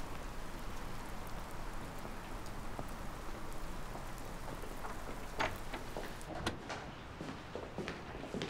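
Steady rain falls outside a home at night, a dense even hiss across the whole stretch, with a few faint knocks near the end and no one talking.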